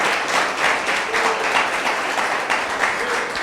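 Church congregation applauding during an evening service, dense even clapping from many worshippers in a large hall, steady and moderately loud throughout.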